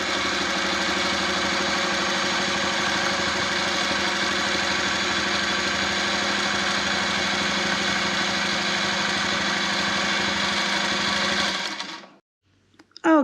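A Voyager longarm quilting machine runs steadily while basting a quilt, giving a loud continuous mechanical whir with a rapid stitching rhythm for about twelve seconds before it stops abruptly, followed by a couple of faint clicks.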